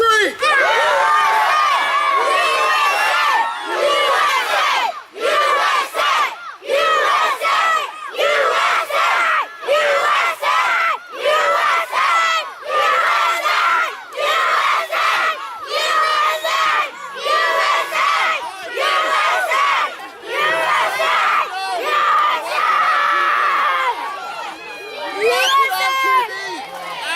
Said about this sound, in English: I think Ashley needs to hear how loud you're going to be cheering in the Olympics